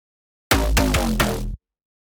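Distorted synth percussion hit built from a sine punch preset with a shaped transient, part of an electronic track, a single dense burst of about one second with three or four pulsing attacks inside, played alone in silence.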